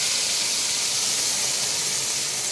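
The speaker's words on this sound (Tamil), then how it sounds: "இப்போது இந்த மாவை மெதுவாக கொட்டலாம்" Buttermilk and flour batter for mor kali hits a hot oiled pan, giving a steady, loud, even hiss that holds unbroken throughout.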